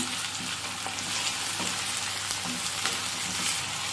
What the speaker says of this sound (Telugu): ఇప్పుడు బాగా కలుపుకొని బాగా ఫ్రై చేసుకోవాలండి